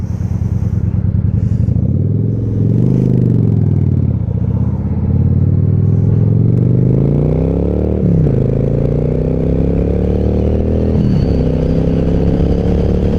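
A motorcycle is ridden with its engine close by, revving up and down in rising and falling sweeps through the gears, alongside some clatter and road rumble.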